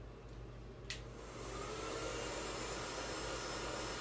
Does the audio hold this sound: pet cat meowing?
no